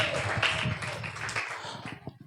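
A church congregation claps hands during a Sunday service, with dense, steady applause that thins out toward the end and a few scattered claps left over.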